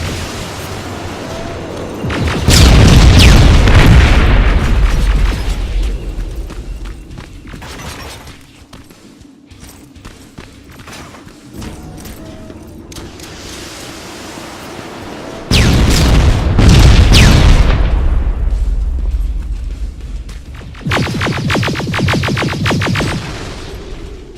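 Rocket explosions in the video game Terminator: Resistance hit as repeated loud booms, several heavy blasts with crackling debris and rumbling tails separated by quieter stretches, no talk.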